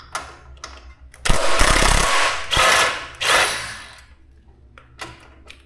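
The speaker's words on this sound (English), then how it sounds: "I'm going to undo this bolt here" A chrome socket wrench from a 6mm set ratchets on a motorcycle exhaust bolt of a Suzuki GSX-S750, giving close, loud bursts of metallic clicking and grinding in several uneven spells, with short pauses between them.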